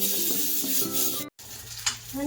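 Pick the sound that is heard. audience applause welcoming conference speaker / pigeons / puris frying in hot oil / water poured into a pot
puris frying in hot oil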